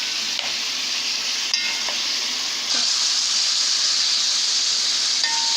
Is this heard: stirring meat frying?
yes